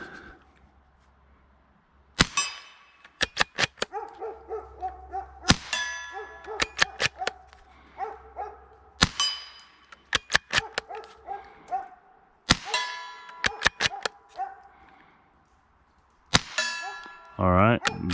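Ruger American rifle firing five CCI Quiet subsonic rounds at a steel target outdoors: sharp metallic clangs of bullets striking steel, spaced a few seconds apart, each followed by quieter bolt-cycling clicks and handling noise.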